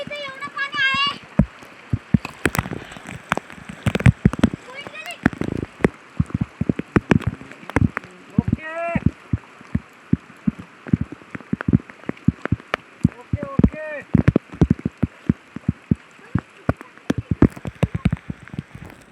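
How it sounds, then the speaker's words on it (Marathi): Heavy rain patters densely on a nearby surface, with irregular drops hitting close to the mic, while people, including a child, talk over it. "आता इतका पाऊस आलाय की आमचं डोकं सुद्धा भिजलेलं आहे"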